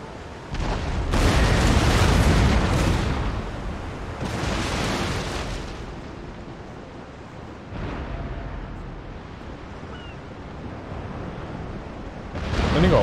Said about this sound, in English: Nice broadside there.